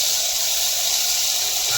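Masala spices and garlic sizzle in hot oil, a steady close hiss with bright crackling texture running continuously and evenly throughout.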